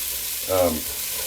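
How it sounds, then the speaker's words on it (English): Chopped vegetables sautéing in a large pot, a short burst of sizzling that swells for about a quarter second over a quieter background hiss. "So we're going to let these saute up, and then we'll get everything else going."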